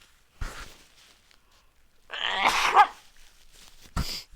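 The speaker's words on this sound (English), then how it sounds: "I'm gonna sneeze again." One close, explosive sneeze from a man in the middle, with faint breathy sounds before it and a sharp short burst after.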